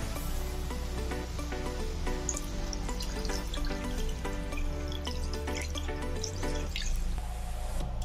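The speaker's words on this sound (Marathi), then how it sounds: "यात आता मी दूध घालते।" Milk is poured into a pan while making a thick badam shake. A soft, steady liquid trickle and drip runs quietly throughout, with faint background hum and no voices.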